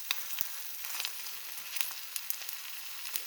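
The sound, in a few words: crispy egg frying in a pan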